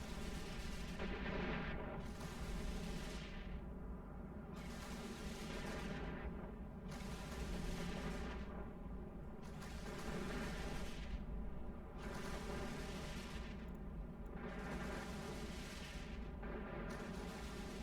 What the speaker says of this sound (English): Firing his Minmatar style machine guns at us.